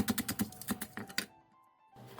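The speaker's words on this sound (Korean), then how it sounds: "대파 조금도 쫑쫑 썰어주세요." Knife rapidly chopping green onion on a cutting board, a fast run of about a dozen crisp, close taps, then a short quiet pause before another cut begins.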